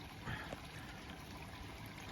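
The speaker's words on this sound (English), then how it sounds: "And then I built that stream there. And a little waterfall coming through." Water trickles steadily through a small homemade garden pond stream and little waterfall built from collected stones and liner, a quiet continuous splashing flow heard up close with no talk.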